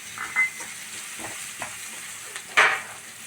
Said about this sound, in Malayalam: സവാള മീഡിയം ഫ്രൈ ആയിട്ടുണ്ട്. പിന്നെ അതിലേക്കൊരു 3 പച്ചമുളക് ഇടാം.